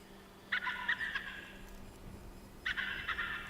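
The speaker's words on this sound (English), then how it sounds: "And these ducks sound a little funny." Wild harlequin ducks call during a hunt, two bursts of high, squeaky, chattering notes separated by a pause, moderately distant over a quiet background.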